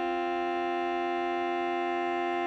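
A beginner school band holds a sustained concert F, with the horns sounding their G, producing one steady, unchanging blended chord with no attacks or breaks, moderately loud and without talking.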